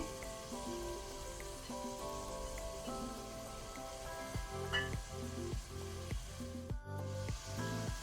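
Capsicum, cauliflower and frozen peas frying in pav bhaji masala on a high flame give a steady, hissing sizzle that runs throughout beneath tuneful background music.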